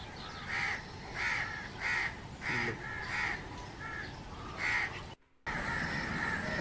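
A flock of mynas perched on rooftop solar panels in a Pakistani village, calling repeatedly in harsh rhythmic squawks at moderate distance, with a brief dropout near the end.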